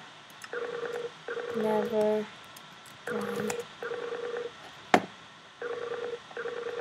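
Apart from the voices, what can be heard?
telephone ringing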